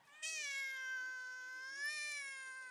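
A cat gives one long, loud, drawn-out meow that holds steady for a couple of seconds and swells slightly near the end, close to the listener and with no other sounds.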